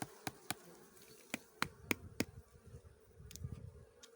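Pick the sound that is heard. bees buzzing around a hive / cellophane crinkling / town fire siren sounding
bees buzzing around a hive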